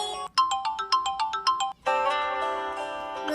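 The Samsung Galaxy S3 alarm tone plays a quick run of about ten bright chirping electronic notes, then a short pause and a sustained shimmering chord.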